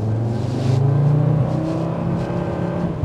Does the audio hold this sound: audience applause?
no